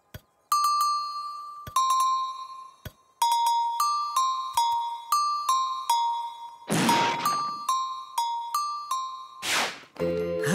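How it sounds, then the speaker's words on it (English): Shiny cowbells ring in a run of bright, clear metallic dings, struck one after another with lingering tones and a couple of louder clanks along the way. "The cowbells!"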